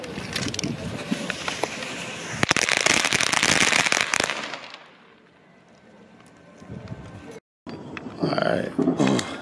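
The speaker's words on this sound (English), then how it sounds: "Let's send a Red Apple Platinum Crackers 100." A Red Apple Platinum Crackers 100 firework cake fires on New Year's Eve, a loud dense run of crackling bursts and pops that fades and then returns, with people talking over the display.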